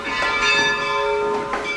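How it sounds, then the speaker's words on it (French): Church bells peal in Zillisheim, Alsace, for the election of Pope Francis, several bells overlapping in a bright, continuous clangor with no voices over them. "C'est bien la première fois qu'ils sonnent les cloches."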